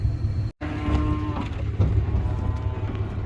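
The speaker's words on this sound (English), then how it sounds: "There go our cows." Cattle at a sale barn lowing as they are unloaded and sent off, a couple of loud moos close by over a low rumbling background, with a brief dropout early on.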